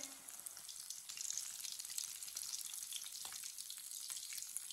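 Pakoras fry in hot oil with a faint, continuous crackling sizzle and light bubbling throughout.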